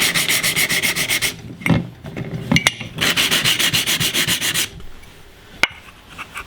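An abrasive pad shaves down the edge of a partly cut glazed tile, making quick, rhythmic back-and-forth scraping strokes in two close, loud bursts, separated by a pause with a few knocks.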